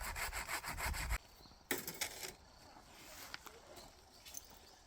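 A hand saw cutting through a tree branch during pruning, with rapid rasping strokes at first, a pause, then a few more short strokes before quieter rustling outdoors.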